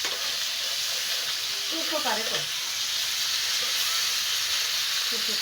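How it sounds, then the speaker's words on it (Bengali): Onion and cumin frying in a pan give a steady, loud hiss and sizzle throughout, with a clatter of stirring near the middle and faint background voices. "পেঁয়াজ আর জিরা সুন্দর ভাজা বলতে জল দিয়ে দিলাম।"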